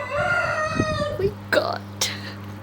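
A chicken crows once in the background, a long drawn-out call of about a second over a steady low hum, followed by a few short, sharp clucks or chirps.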